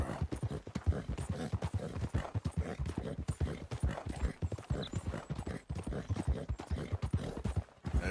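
Horse hooves clip-clop at a steady walking pace in Red Dead Redemption 2, close and continuous, with a busy dense rhythm of hoofbeats.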